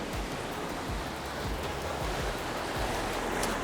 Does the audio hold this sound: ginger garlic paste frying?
no